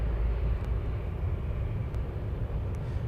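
A distant C-130 transport aircraft taking off from Anchorage airport, heard as a faint, steady low rumble of engine noise with no voices over it.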